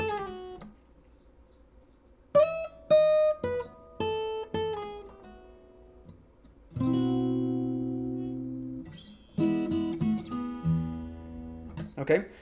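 An acoustic guitar plays a piece slowly, with single plucked notes and short chords ringing out one at a time, then longer sustained strums near the end, close and clear.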